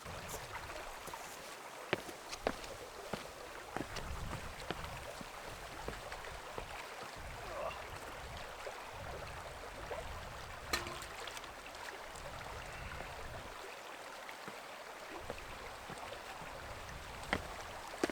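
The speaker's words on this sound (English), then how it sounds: "there's the river" Outdoor river water flows steadily with a broadband rush, alone with no voices, and some light clicks and knocks over the flow.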